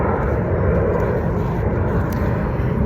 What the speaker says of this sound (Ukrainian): тут у мене самоліти літають, я в парку.